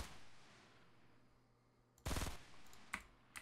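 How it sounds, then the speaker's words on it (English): A sharp, loud gunshot burst cracks out in a Fortnite Battle Royale match after a quiet lull, followed by a couple of fainter, shorter shots and clicks. "Again, I shouldn't have shot"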